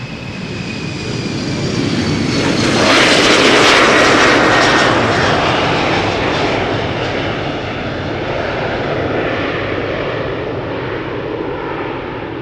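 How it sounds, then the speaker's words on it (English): A KLM Embraer 190 jet spools up for takeoff at Schiphol Airport. The engine roar swells to a loud broadband peak around the middle of the clip, then holds steady and strong with a faint whine on top. "And another line skipper already spooling up to Manchester. KLM flight 1031. Embraer 190."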